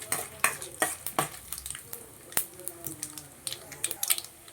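Skinned peanuts and mustard seeds fry in oil in a pan while millet upma is being made. A spatula scrapes and clinks irregularly against the pan over a faint, quiet sizzle.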